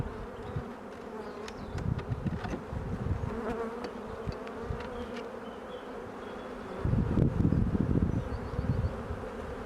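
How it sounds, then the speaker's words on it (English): Continuous buzzing of a crowd of honey bees at an open hive, close and fairly loud, swelling stronger toward the end. "the first thing that I see is that the bees look really busy inside"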